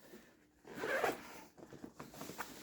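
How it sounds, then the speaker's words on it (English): A Bellroy Venture Sling 9L bag being zipped shut: one long, close zipper pull, then a few shorter tugs and rasps, with no talking. "I just zip it up"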